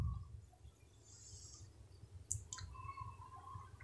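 A computer mouse clicking the install button for English-learning software, a couple of quick, faint, close clicks over low room hum.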